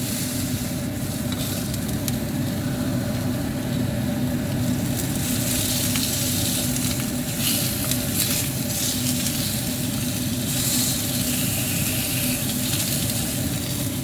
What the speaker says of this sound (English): Well, in this case, it's actually just pan frying it.